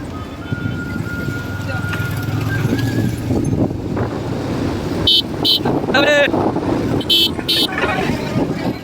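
Vehicle carrying pilgrims on the Ramdevra foot pilgrimage drives through dense forest, a steady engine and road rumble throughout with several short horn toots in the second half and talk over it.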